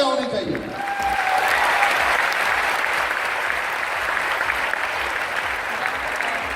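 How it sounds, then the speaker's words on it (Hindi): A business event audience bursts into loud, dense applause that fills the room, sustained at an even level with a faint voice at the start and crowd murmur beneath. "सो शानदार बिजनेस के लिए एक जोरदार तालियां होनी चाहिए।"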